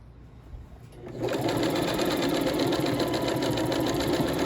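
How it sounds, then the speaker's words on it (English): Sewing machine stitching the back seam of a shirred strapless dress, starting after a second of quiet room noise and then running steadily at a fast, even whir close by until the end. "Then you just want to put your right sides together and just sew your the back seam of it."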